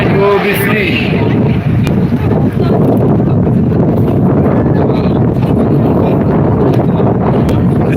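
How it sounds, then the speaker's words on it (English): Wind buffets a microphone outdoors at a picket line, a loud continuous low rumble and roar throughout with faint sounds beneath. "a bit windy also."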